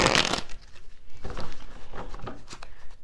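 Tarot cards riffle and slap together in quick, crisp bursts close up, a rustling shuffle repeated several times with no talking.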